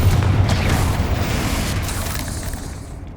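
Explosive spell blasts such as Bombarda and Confringo in Hogwarts Legacy erupt as a heavy, rumbling boom that starts loud and slowly decays over a few seconds, with no voices.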